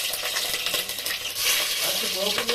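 Green chillies fry in a pan for a chicken fry, giving a close, dense sizzle broken by repeated scraping stirs and light clinks of utensil against metal.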